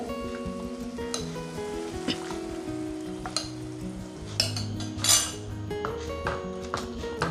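Ragi mix being stirred into a healthy soup in a pot, spoon scraping and clinking against the pot over a soft sizzle, with a few louder scrapes, alone with no talk and background music tones.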